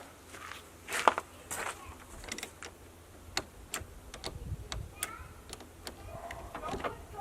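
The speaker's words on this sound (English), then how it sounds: "I'm just going to remove the negative terminal from both batteries. It's an 8mm socket." An 8mm socket loosening the negative terminals on both batteries of a Ford 6.0 Powerstroke diesel, heard as a scatter of faint clicks and ratchet ticks over a dull hum in a workshop.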